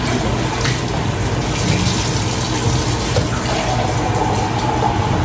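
Hot water gushes steadily from a household tap, a continuous bright splashing rush that stays close and even throughout, with no voices.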